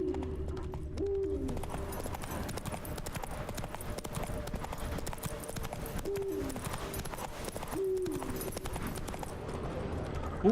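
Roach the horse gallops in The Witcher 3 (Blood and Wine), her hoofbeats a steady, rapid clip-clop rhythm that runs throughout, with a few brief tonal calls rising above.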